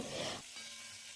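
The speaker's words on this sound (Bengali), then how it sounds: "এই যে সব মাছ লেজা মাথা যেগুলো আছে সেটা ভালো করে তেল তেলের মধ্যে দিয়ে দিয়েছি একটু ভালো করে ভেজে নেব" Snakehead fish heads and tails fry in hot oil, a soft, steady sizzle with a stirring scrape in the first moment, then a quieter crackle.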